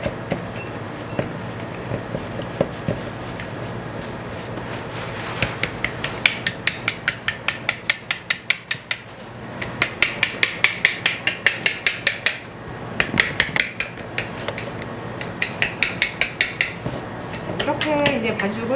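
A whisk mixes glutinous rice yakgwa dough in a bowl, making rapid rhythmic clinks and scrapes against the bowl in repeated bursts with short pauses between them.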